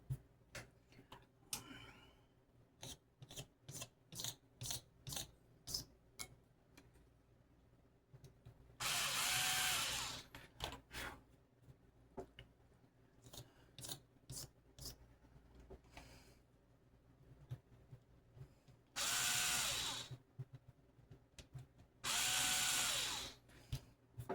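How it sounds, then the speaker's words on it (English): Power drill boring holes during a red relic build, heard in three loud sustained bursts of a few seconds each, separated by irregular clicks and taps, with no talking. "we got 3 holes drilled"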